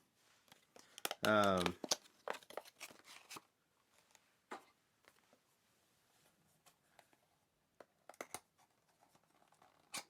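Packaging for Tomica Limited Vintage toy cars, including a Honda Prelude XX, is opened up close with a loud burst of crinkling plastic and cardboard, then scattered quieter rustles, taps and clicks.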